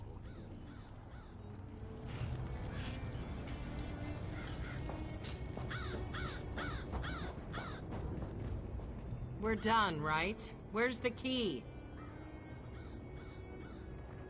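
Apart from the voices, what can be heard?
crow cawing in video game The Elder Scrolls Online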